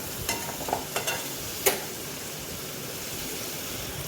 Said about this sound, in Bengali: খুন্তি দিয়ে আবার মশলার সাথে আলুগুলোকে ভালো করে একটুখানি নেড়ে চেড়ে নিচ্ছি যাতে একটু মশলাটা কষানো হয়